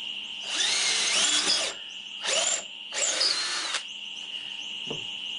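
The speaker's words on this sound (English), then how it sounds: "Really helps if you've got the drill going in the correct direction." A power drill drives into a wooden top bar hive to make bolt holes, three close whining bursts of varying length separated by short pauses, ending with a small knock.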